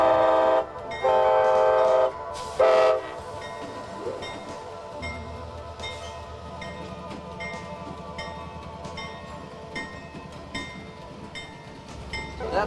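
A train horn sounds in three loud blasts over the first few seconds, then a train rumbles and clatters steadily along with a faint ringing bell.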